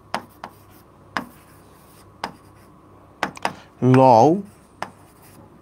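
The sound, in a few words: writing on a board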